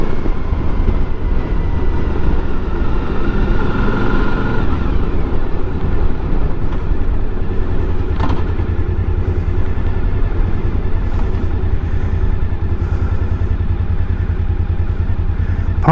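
Suzuki V-Strom DL1000 motorcycle on a first ride, its engine rumbling steadily with road and wind noise throughout, recorded close from the bike.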